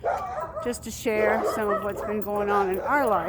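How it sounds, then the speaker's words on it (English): Several dogs bark, yip and whimper in a city home, with excited high-pitched yelps and whines rising and falling close by, mixed under a person talking. "Sorry about the dogs."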